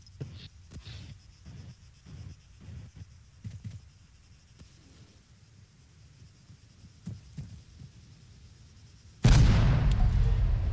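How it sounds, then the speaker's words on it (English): Explosives detonate in the military shooter Arma 3: after several seconds of quiet shuffling and faint thuds, one sudden loud blast erupts close by and rumbles on to the end. "Cool, guys, I love that explosion."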